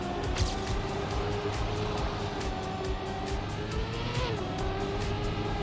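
A race car in Trackmania skids and slides, its engine droning steadily with a shifting whine while tires scrub across the track, close and continuous.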